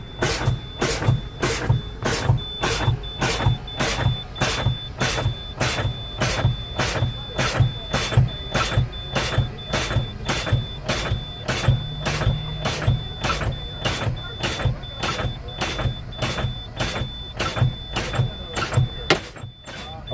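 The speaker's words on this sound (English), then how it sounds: "I'm going to continue to pump down to 30 PSI, and my brake should automatically engage" A truck's air brakes being pumped down toward 30 PSI: a steady, rapid train of sharp clicks or pulses repeats over a low mechanical hum, continuous and fairly loud throughout with no voices.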